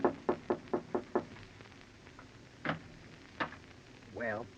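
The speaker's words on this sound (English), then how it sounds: "you go upstairs and knock on the door" Knocking on a door as a radio drama sound effect: a quick run of six sharp raps close together, then quiet, followed by scattered brief sounds and a short voiced tone near the end.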